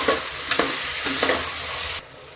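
Chopped tomatoes and onion sizzle steadily in a pan for a veg pulao, a dense frying hiss with a few soft stirring scrapes before it drops away abruptly near the end.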